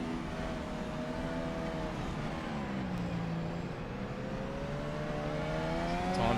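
Formula 1 cars race in an F1 video game, McLaren against Williams, their engines whining and shifting pitch in a steady drone from a moderate distance, with no clear voices.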